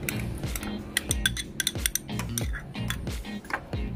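Cure ingredients for honey and gin gravlax being mixed in a bowl: a quick series of light metallic clinks and taps of a utensil against the bowl, close and fairly quiet, with no voices.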